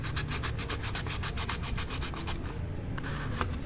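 Sandpaper rubs rapidly back and forth over a water pump part, type 125, in steady close strokes that ease off near the end.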